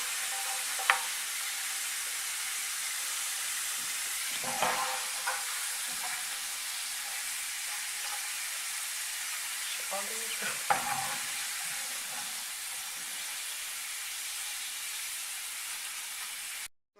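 Steady sizzling of potatoes frying in a hot pan fills the whole stretch, with a few brief stirring scrapes and clinks in the middle.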